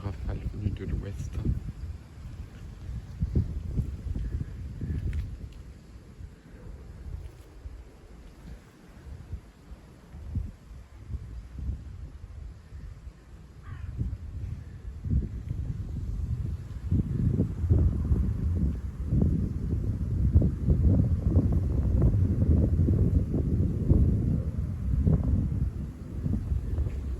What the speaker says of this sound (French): On a quelques rafales venues de l'ouest.